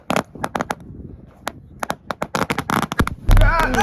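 A pile of fireworks set off by a sparkler bursts into a rapid run of sharp crackling pops, irregular and loud, growing denser and ending in a rising whistling fizz.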